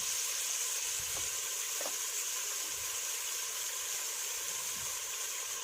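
Onions sautéing in a pan while a fish kuzhambu is being cooked, giving a steady, even sizzle throughout with a few faint stirring clinks and no talk.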